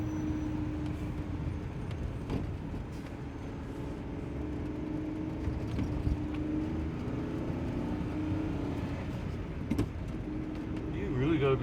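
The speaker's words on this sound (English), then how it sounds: "There's just so many cars pulling in and out." Rush-hour road traffic in a busy part of town, with cars pulling in and out; a steady, fairly loud rumble of engines and tyres runs throughout, with occasional louder passes, and speech is picked up around it.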